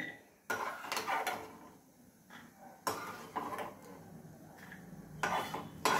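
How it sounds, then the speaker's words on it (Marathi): Roasted peanuts clatter from a pan into a bowl in a home kitchen, giving a few separate bursts of rattling and scraping metal at moderate volume, with quieter gaps between them. "आता हे दाणे जे आहेत हे आपण काढून घेऊया एका वाटीमध्ये."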